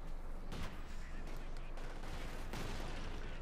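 Rapid gunfire from a Company of Heroes 2 battle between German Wehrmacht and Soviet forces, a dense, steady stream of shots and small-arms fire with sharper bursts near the start and end.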